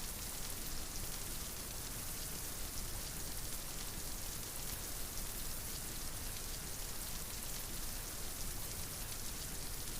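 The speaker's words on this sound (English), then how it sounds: "The rain fell in gentle sheets outside, a soft drumming that could lull anyone to sleep" Steady rain falls in soft, even sheets, a constant hiss and patter that holds at the same level throughout with no other sounds.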